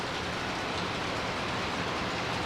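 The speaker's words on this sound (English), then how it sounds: "here comes Mr. Delaware and Hudson with the train miniature train" A Delaware and Hudson miniature train runs on a model railroad layout, giving a steady, dense rushing rumble close by that holds at an even level for a couple of seconds.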